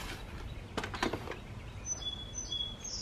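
Birds chirp and whistle outdoors in short, faint high calls, with a couple of brief bursts early on and thin sustained whistles near the end over a low background hum.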